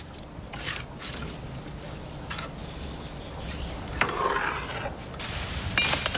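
Yellow rice with chicken simmering in a pot, Cuban arroz amarillo con pollo, giving a steady close bubbling sizzle with occasional stirring and utensil clinks, no voices.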